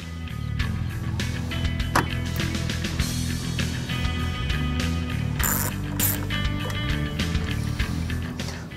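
A ratchet wrench on an extension works bolts loose from a car headlight housing, giving dense, steady clicking and mechanical clatter close up, continuous throughout with a few sharper metallic ticks.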